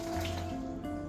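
Liquid poured into a pot while cooking pesto pasta with meatballs, a steady close trickling and gurgling stream with a faint ringing tone, no talking.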